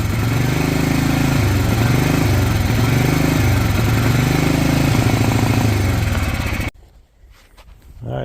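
A 2010 Polaris 400 AWD ATV engine with a faulty carburetor runs loud and close, its low putter rising and dipping unevenly before cutting out abruptly near the end, leaving quiet rustling.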